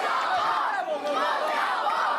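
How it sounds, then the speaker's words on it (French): A wrestling crowd at a match in Mortagne jeers wrestler Sean, a dense, steady roar of many voices with shouted calls rising and falling over about two seconds, loud and close. "on entend la foule qui aime vraiment pas Sean"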